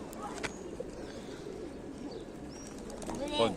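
Pigeons gather and coo while people scatter feed for them outdoors, giving low soft coos with occasional chirps and wing flutters at close range, mixed with ambient background noise.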